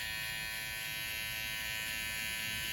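An electric hair clipper balds out the skin section of a taper haircut, holding a steady, close, high buzzing whine for the whole stretch with no pauses.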